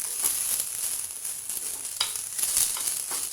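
Dry ingredients for sambhar roasting alone in a heated iron kadhai, giving a steady close crackling sizzle with faint scraping stir strokes.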